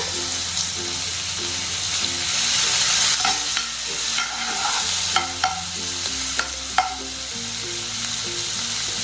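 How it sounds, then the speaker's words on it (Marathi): Mustard seeds spluttering and sizzling in hot oil in a pan while vada pav chutney is prepared, with a soft continuous fry hiss, a few sharp pops and some stirring clinks, faint music underneath. "मोहरी तडतडली"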